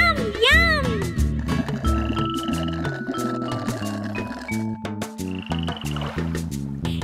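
Speckled frogs in a children's nursery song, cartoonish croaks and ribbits riding over a bright, bouncy musical backing, loud and up front throughout.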